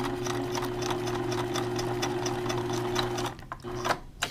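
A sewing machine bar-tacks window screen material with a rapid, steady mechanical stitching hum for about three seconds. It then stops and starts again with a short burst, close and loud, with no talking.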